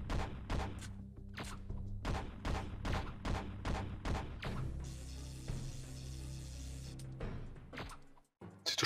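Rapid gunfire from the PlayStation game Syphon Filter 3, with a run of sharp, evenly spaced shots followed by a sustained burst and a brief quiet gap near the end.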